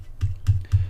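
Three distinct keystrokes on a computer keyboard, evenly spaced and close, each a short muffled tap with a low thud, while icon names are typed in during React Native app development.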